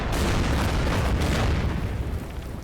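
Coastal artillery fire from a destroyer in the naval war game Order of Battle Pacific, a dense, continuous rumbling roar of blasts heard alone.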